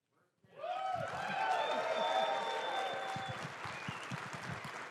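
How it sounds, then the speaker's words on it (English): Applause breaks out at a security conference closing as someone is called up for recognition; clapping swells after a brief quiet and continues steadily, with a voice speaking over it near the start. "half of those claps are for your sweet wife as well"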